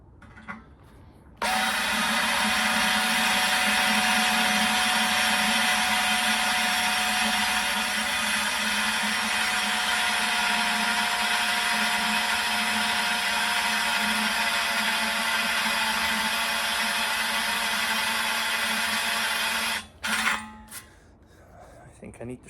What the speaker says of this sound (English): I'm going to drill a pilot hole so that the annular cutter doesn't walk on me.